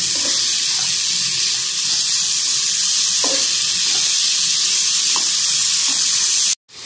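Carrots for Afghani kabuli pulao frying with sugar in a pan over a low flame give a steady, close, hissing sizzle that runs unbroken, with a few faint clicks and a sudden cut just before the end.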